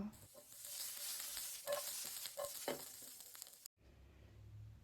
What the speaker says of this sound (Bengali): এখানে আমি একটুখানি তেল দিয়ে ভেন্ডিগুলোকে ভেজে নিব আর পেঁয়াজগুলোকে একসাথে আমি একটু তেলে নিব।